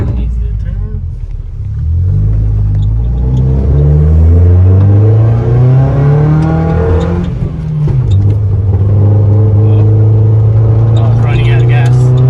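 Datsun 620 pickup truck with a swapped Beams engine, driving and revving hard: loud close engine note climbing through the gears with rising pitch sweeps, a shift, then steady cruising drone, with people talking over it.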